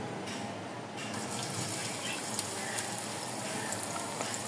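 Chopped onions sizzling in hot mustard oil in a wok, a steady broadband hiss with faint crackles and pops throughout, close and continuous.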